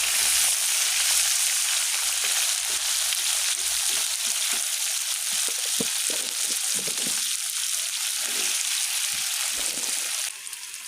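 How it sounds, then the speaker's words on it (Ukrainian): Potatoes sizzle and crackle steadily in a hot pan, with occasional stirring sounds and no talking. "Картопелька смажиться."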